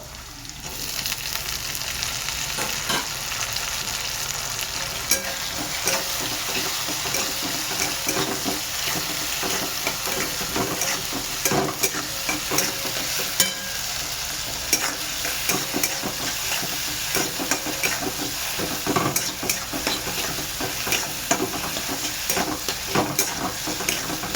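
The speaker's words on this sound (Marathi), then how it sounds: "आणि आता आपण टाकणार आहे टमाटर" Tomatoes fry in a pan for dal palak, a steady crackling sizzle with occasional spoon scrapes and stirring clicks running throughout, close and even in level with no talk.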